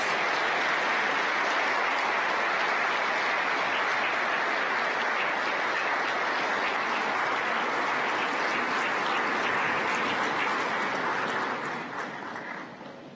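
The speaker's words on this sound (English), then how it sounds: "Ladies and gentlemen, a round of applause as His Excellency departs." Sustained applause from a large conference audience fills the room as a dignitary departs a mobile technology event (MWC), dense and steady throughout before easing slightly toward the end.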